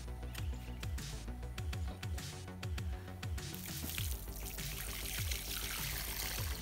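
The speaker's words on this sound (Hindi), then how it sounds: "अब हम इसमें पानी डालेंगे।" Water is poured into a freshly dug pit in the ground, a continuous splashing pour close by with small trickling clicks and gurgles, no talking.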